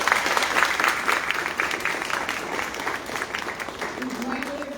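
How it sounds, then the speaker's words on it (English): An audience at a candidate forum breaks into a sustained round of applause, dense clapping that holds steady and then tapers, with a voice briefly emerging near the end. "Can you just give them a round of applause?"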